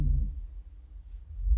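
Chinese alligator call pitched three octaves lower, a deep, rumbling low drone that swells at the start, thins in the middle and builds again toward the end, moderately loud and with no voices.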